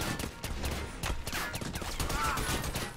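Gunfire in the cooperative shooter game Army of Two, a dense crackle of shots running steadily through the whole stretch at moderate level, with no voices over it.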